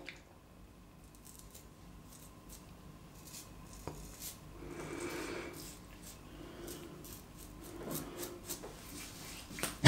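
Razor dragging over rough stubble during a wet shave with Løthur Grooming Namkha shaving soap, making soft, close scratchy rasps and brief squishy rubbing strokes in short irregular bursts.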